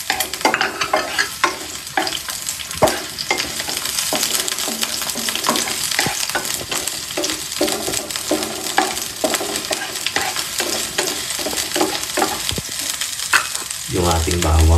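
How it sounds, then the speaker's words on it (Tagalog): Onions frying in canola oil in a pan, a steady crackling sizzle broken by frequent stirring scrapes, loud and near, with no speech. "maglalagay na ako ng canola oil sa ating pan. Tapos syempre, yung ating sibuyas."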